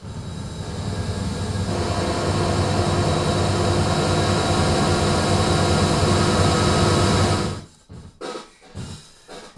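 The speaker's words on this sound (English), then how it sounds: "Infinite sustain sounds like this." A dense, endlessly sustained wash of reverb swells and holds steady for several seconds, then cuts off into a few short, dry bursts.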